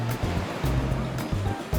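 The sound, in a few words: ocean waves crashing on the beach, Puerto Vallarta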